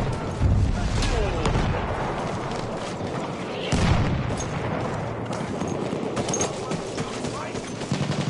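Continuous near gunfire with heavy booming artillery fire in a Battlefield 1 multiplayer match, dense overlapping shots and blasts throughout, with voices talking underneath.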